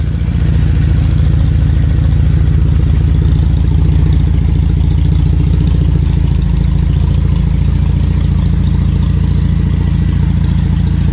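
An LFX V6 engine idles steadily on a test stand during a transplant trial into a Camaro, a loud, close, continuous low drone with a fine mechanical clatter and no voices.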